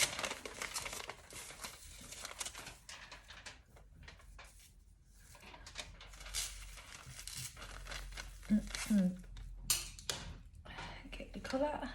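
Aluminium foil for hair colouring crinkles and rustles in intermittent bursts as it is handled up close, mixed with someone talking throughout.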